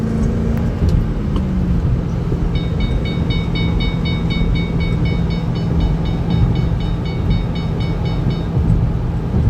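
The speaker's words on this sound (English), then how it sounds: "I'll just drive along for a minute, talk a little less." A 2008 Shelby GT in Vista Blue cruises along with a steady engine and road drone filling the cabin throughout, plus a faint repeating electronic chime from the seatbelt warning partway through.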